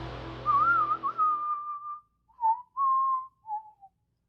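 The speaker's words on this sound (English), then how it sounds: "I can't whistle very well" A person whistles a theme song, a little unsteadily, in several short melodic phrases with gaps between them, close and alone apart from a faint low hum at the very start.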